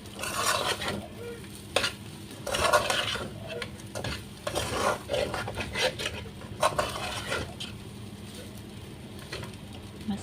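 Fried rice with fish sausage is stirred in a pan, with uneven bursts of scraping and tossing over a soft, steady sizzle, close and moderately loud.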